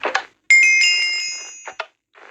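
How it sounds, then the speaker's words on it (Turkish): A bright electronic doorbell chime in Minecraft rings out and slowly fades, with brief voice-like sounds just before and after it. "Zil çalalım."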